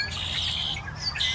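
Several birds give high squawks and chirps close by while feeding on bird seed scattered over the ground, a steady chorus of calls with no talking.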